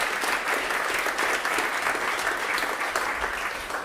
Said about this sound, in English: could give Shona a round of applause